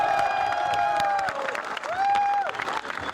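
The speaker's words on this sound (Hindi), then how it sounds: "अभी सबसे पहले आप लोग खुद के लिए तालियां बजा दीजिए जोरदार।" A large outdoor political rally crowd claps and cheers loudly in the heat, with a dense wash of applause and whistles and some voices calling out, heard close and continuous.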